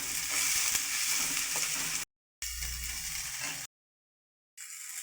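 Onions, green chili, curry leaves and coriander leaves sautéing in a kadai, a steady bright sizzle broken by two abrupt silent gaps, with no voices.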